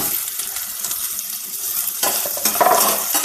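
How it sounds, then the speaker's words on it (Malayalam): Sliced onions sautéing in coconut oil in a pan for a curry: a steady, close hiss of frying with scraping stirs, growing louder and more crackly in the last second. No one speaks. "സവാള ഇട്ടു. സവാള ഒന്ന് വഴന്ന് കിട്ടട്ടെ."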